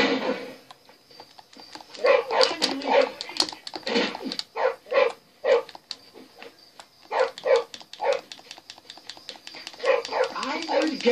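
A dog in the video game Canis Canem Edit barks, yips and whimpers in repeated short bursts, mixed in with game characters talking over it.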